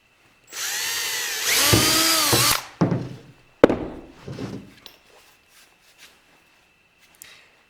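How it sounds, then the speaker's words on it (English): A power drill whirs up and spins at high speed for about two seconds drilling a hole in wood, then stops; a few clunks and light handling knocks follow. "I'll just drill a hole into that"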